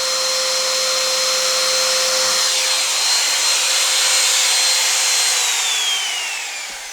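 An electric router motor spins freely with no load while drawing power from a battery during a power outage, a loud, steady high-pitched whine that holds evenly, then begins to wind down at the end, with no voices.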